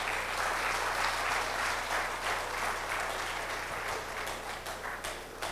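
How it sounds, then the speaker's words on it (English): A comedy audience in Brooklyn claps and applauds continuously, a dense wash of hand claps that stays strong throughout and tapers slightly near the end. "Give yourself a round of applause."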